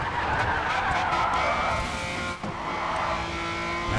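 Race car tires squealing and skidding through a sharp curve in the video game Grid 2, over a steady engine roar. The tire noise holds loud and close for several seconds with a brief dip midway.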